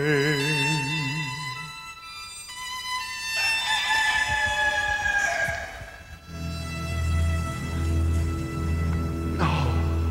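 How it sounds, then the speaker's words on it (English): A rooster crows loudly and close in a staged musical production, its long drawn-out call standing alone over sustained background music with no talk. "before the cock crows, you will have denied three times that you know me"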